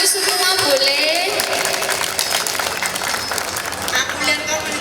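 An audience at a city meeting in Malang claps steadily, a dense wash of applause that is strongest at the start, thins slightly, then holds, with some voices mixed in.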